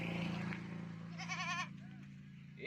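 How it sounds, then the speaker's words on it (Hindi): A goat bleats a few times at a livestock market, wavering calls rising over a steady crowd murmur with people talking nearby. "यही बकरा है"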